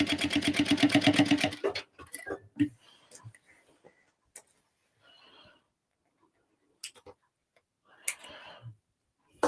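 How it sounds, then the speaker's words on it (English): A sewing machine stitches rapidly for about two seconds, a fast mechanical rattle, then stops; quiet clicks, handling sounds and brief speech follow. "my sewing machine takes off at a rate of knots"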